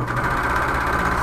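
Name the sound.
sewing machine stitching over the seams of a bag lining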